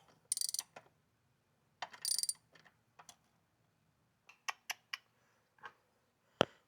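A ratchet tightening nuts onto weak intake studs of a 2025 Subaru WRX, quick bursts of clicking followed by a few single sharp clicks and a final snap, close and clear with no talk.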